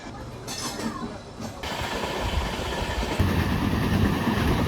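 Superfast express passenger train (Shalimar to MGR Chennai Central special) running, heard from a general coach as a steady loud rumble with wheel noise throughout, no speech.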